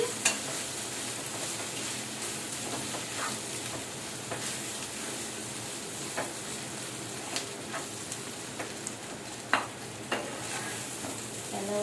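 Bitter gourd (kakarakaya) frying in a pan, a soft steady sizzle with occasional light clinks and scrapes of stirring, fairly quiet and close.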